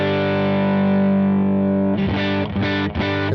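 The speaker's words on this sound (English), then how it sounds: "Next up, we have the LA Studio Comp." An electric guitar through the LA Studio Comp compressor on a Line 6 HX Stomp XL: a long sustained distorted chord rings out, then several choppy rhythmic strums follow, loud and alone.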